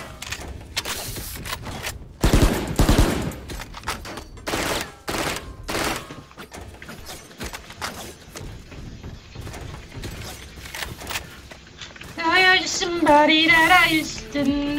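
Rapid gunfire bursts in a video game, several loud cracks clustered around the start and scattered shots after, mixed with mechanical clicks and game effects, with a brief patterned electronic sound near the end.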